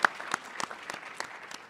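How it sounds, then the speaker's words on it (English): Audience at a closing keynote of a human-computer interaction conference applauds the jury, scattered moderately loud claps from a modest crowd, with no talking. "quick round of applause for the jury who helped us make the decision"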